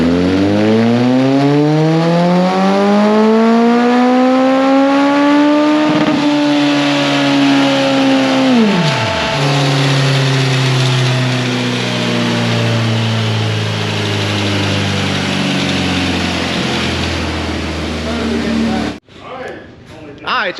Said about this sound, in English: we got the Bandit 1250 here dyno tuned